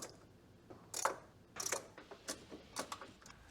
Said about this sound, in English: I'll remove these screws